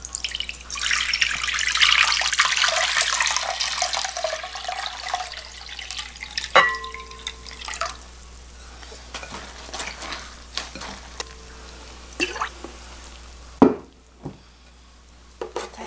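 Soaking water poured off blanched greens for bitter lettuce kimchi, a steady splashing pour into a sink that tapers into scattered drips, clinks and small splashes close by.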